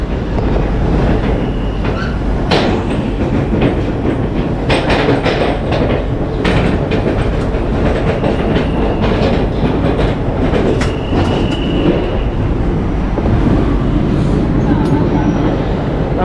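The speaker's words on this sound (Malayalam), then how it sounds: "നമ്മുടെ ട്രെയിൻ പയ്യെ സ്റ്റേഷൻ വിട്ടു തുടങ്ങി" A long-distance passenger train on the Hyderabad to Kottayam route starting off and slowly pulling out of a station, loud steady rolling rumble with rhythmic clatter and occasional squeal, heard close throughout.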